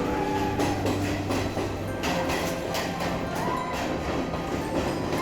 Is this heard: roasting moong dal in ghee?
no